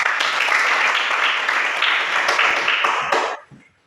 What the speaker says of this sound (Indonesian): Mari kita berikan tepuk tangan untuk kita semua.